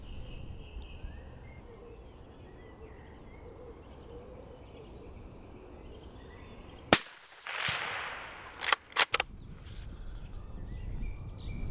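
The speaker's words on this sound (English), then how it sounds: "Steve tells Les that now is the time to take the shot." A single sharp rifle shot fired at a deer buck near a woodland edge, cracking loudly across a quiet outdoor scene with faint birdsong, followed by a few more brief loud bangs and clatters.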